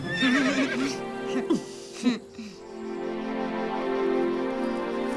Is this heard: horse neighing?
yes